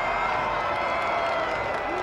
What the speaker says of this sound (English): the crowd is really getting a tremendous kick out of the exhibition of strength there by Art Thomas